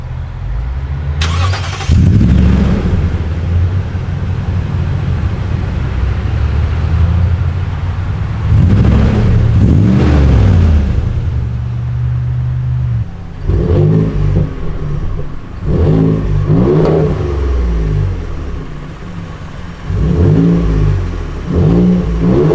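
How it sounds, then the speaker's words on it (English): A pickup truck engine revs repeatedly through an upgraded dual-outlet exhaust, deep rumbling bursts rising and falling, loud and close with brief pauses between. "Both also have upgraded exhaust systems with dual exhaust outlets."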